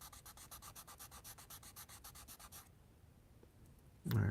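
A 240 grit sandpaper is rubbed over a part for a Corvair build in quick, even back-and-forth strokes, a close, rhythmic scratchy rasp that stops partway, followed by quiet and a brief bump at the end.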